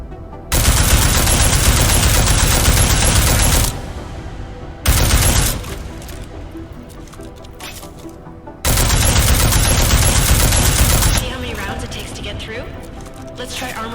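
Gunfire rings out at a shooting range in Deus Ex Mankind Divided: loud, sustained bursts of rapid shots in three separate strings, each followed by a quieter tail of echo and ambience.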